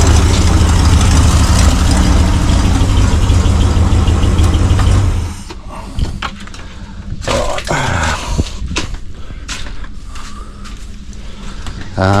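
A Phoenix's engine idles loudly and steadily with mechanical creaks from the power steering, then cuts off about five seconds in, leaving intermittent clanks, knocks and faint handling noises nearby.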